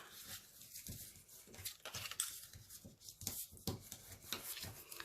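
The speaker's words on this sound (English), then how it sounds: "We're just going to fold and burnish on all the score lines here." Paper being folded and burnished along score lines for a small cube, close irregular rubbing and scraping strokes in short bursts, fairly quiet and without talk.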